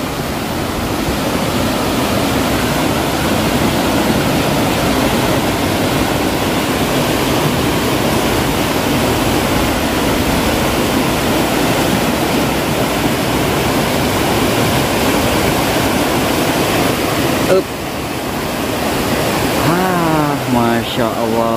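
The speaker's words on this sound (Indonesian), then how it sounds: "ini adalah aliran sungai Citarik" The Citarik River, swollen after heavy rain, rushes in a loud, continuous roar of water that stays steady throughout, with a brief dip near the end.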